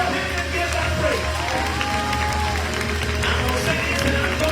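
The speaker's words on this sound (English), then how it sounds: "One more time, clap your hand and give that praise." A church congregation claps hands in praise at a Christmas cantata, producing a loud, continuous wash of applause and crowd noise with a low musical hum underneath.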